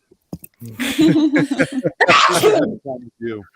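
A person lets out a loud, close sneeze amid some vocal sounds and breathy noises.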